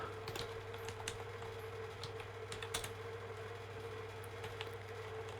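Fast, light typing on a PC or laptop keyboard, the quiet key clicks scattered irregularly over a steady electrical hum and background hiss, with no voices.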